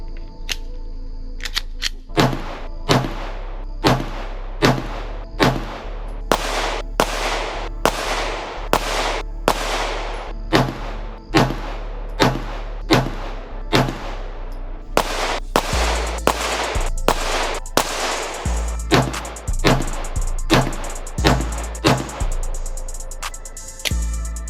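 A Glock 19 Gen 5 handgun fires at a shooting range, with around two dozen sharp, loud shots coming in a steady, fairly quick cadence, each with a short echoing decay, and no talking.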